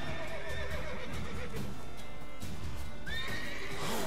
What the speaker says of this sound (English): Get away from my horse, goddammit.